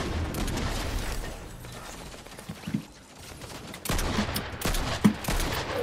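Bursts of gunfire from a shooter video game with a monarch weapon, rapid volleys crackling over a busy mix of game noise, with a sharper burst near the end.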